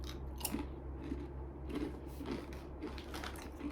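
Crisps from a Japanese 100 yen shop being chewed up close, with soft repeated crunches in an uneven rhythm, quiet and without talk.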